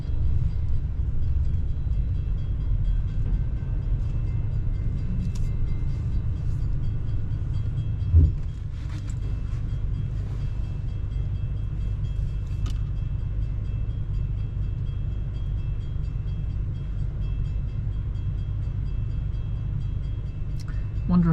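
A train rolls past a level crossing in Maine, heard from inside an RV as a steady low rumble that lasts throughout, with a brief louder clank partway through, moderately close.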